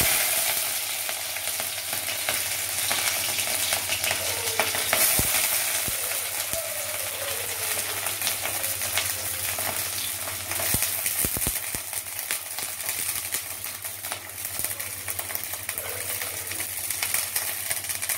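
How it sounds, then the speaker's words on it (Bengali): Chopped beans frying in hot oil in a kadai give a continuous loud, close sizzle with a faint clink or two of a utensil, steady throughout and with no talk. "আমার তেল গরম হয়ে গেছে, আমি এবার বিনসগুলি ছেড়ে দেবো"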